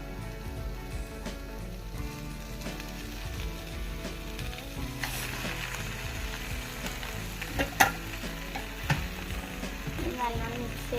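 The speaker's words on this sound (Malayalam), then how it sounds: "ഞാൻ വേവിച്ച് വെച്ച മക്രോണിയാണ് ഇടാൻ പോണത്." Cooked macaroni tossed into a hot pan for chicken pasta, sizzling steadily while being stirred, with a few louder scraping clatters of the spoon partway through and no talking.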